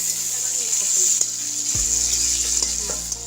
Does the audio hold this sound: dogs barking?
no